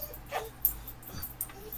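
A young Australian cattle dog lets out a few short, close whimpers and whines indoors, brief and high-pitched, with no talking.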